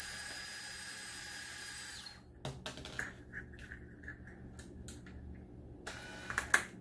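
Small screws come out of a Rockston sideloader pachinko ball lifter kit with a power screwdriver, making a steady high-pitched motor whine that stops, then scattered clicks and faint buzzing before a second whir, quiet and close, with no talking.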